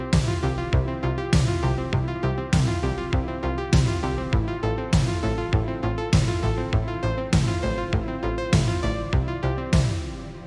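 A synthwave bass line plays a steady, driving pattern of repeated eighth notes, layered with beat-like hits, loud and continuous with no voices.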